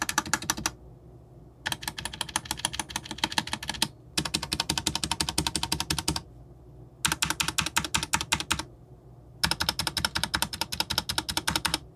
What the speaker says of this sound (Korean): 키보드 타건음을 한번 들려드릴 건데 스테빌라이저가 들어있는 키부터 눌러볼게요